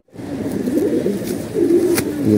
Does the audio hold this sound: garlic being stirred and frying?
no